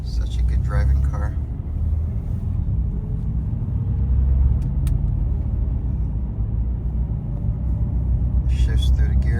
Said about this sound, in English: Shifts through the gears pretty smoothly.